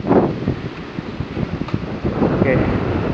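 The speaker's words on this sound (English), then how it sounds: "I just hope this wind calms down a bit." Strong, gusty wind buffets an outdoor shed roof build, roaring steadily against the microphone with rustling and rumble throughout. A storm is passing through.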